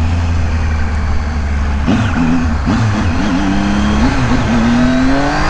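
A remapped Triumph Tiger 800 motorcycle revs hard and accelerates up through the gears, its engine note rising in pitch with shifts, loud and close, no talking.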